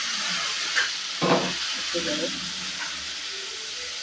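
Water splashed into spice paste frying in a pan for a village-style small mixed fish chorchori bursts into a sharp hiss and sizzle, with a steady frying crackle around it and a voice speaking briefly.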